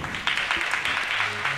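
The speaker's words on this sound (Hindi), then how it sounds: "ताली बजा दो।" An audience at a devotional gathering breaking into applause on request, a short burst of scattered, moderately loud clapping from a group with no talk over it.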